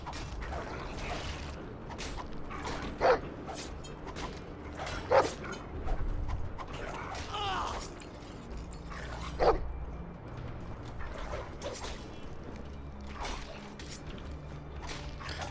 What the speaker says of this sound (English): My doggy attacks automatically